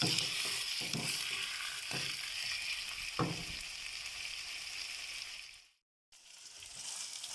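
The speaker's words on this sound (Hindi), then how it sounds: "अभी 5 से 10 मिनट तक इसको आपने फ्राई करना है, लहसुन अदरक और ये प्याज़ों के दरमियान" Chicken frying in a karahi with garlic, ginger and onions gives a steady, close sizzle with several stirring scrapes. It drops to silence for a moment near the end, then resumes.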